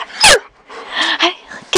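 Dobermans at play indoors give a sharp close bark followed by softer whimpering and whining vocalizations, with a bright yelp near the end.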